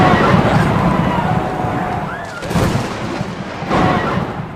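A very loud thunderclap in a storm during a match crashes in and rolls on, a broad booming roar with a second surge near the end.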